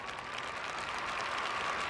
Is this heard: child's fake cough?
no